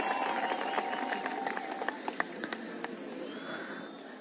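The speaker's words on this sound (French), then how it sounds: "Je vous prie d'applaudir pour lui." An audience at a military gathering claps for a commander, a dense wash of applause with some sharper individual claps and crowd noise mixed in, held at a steady level throughout.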